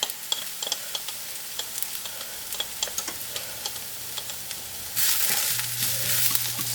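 Minced onion and garlic frying in a pan alongside golden onions for a chickpea dish, heard as a constant close sizzle with clicking spatula strokes that swells louder near the end.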